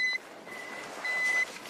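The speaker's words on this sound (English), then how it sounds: "They rely on an audible beep that generally gets louder the closer you get to a victim." Analog avalanche beacon emitting steady electronic beeps, two short tones separated by a gap, clear over a faint background hiss.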